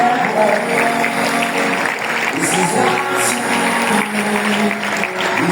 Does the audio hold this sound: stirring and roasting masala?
no